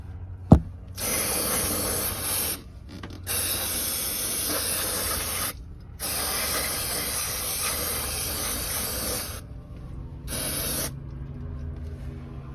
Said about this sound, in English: It's electronic cleaner. It's safe on rubbers and everything, and you can spray it.